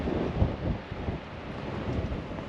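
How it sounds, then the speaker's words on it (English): Strong westerly wind pounding a coastal campground, a steady broadband roar with gusty low-end buffeting against the microphone, continuous and fairly loud throughout. "like the rest of the coast is getting absolutely pounded by this westerly wind."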